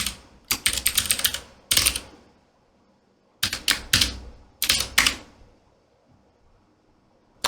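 Someone types a password on a computer keyboard in crisp clustered bursts of keystrokes, separated by short silent pauses, close up and with no voices.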